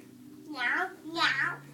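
A young child imitates a cat, giving two drawn-out meows in a high voice, close and clear, over a faint steady hum.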